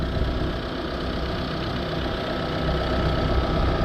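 Air compressor running steadily somewhere below, a dense continuous mechanical rumble with a knocking texture, growing slightly louder toward the end, used during a DPF clean on a Vauxhall Vivaro.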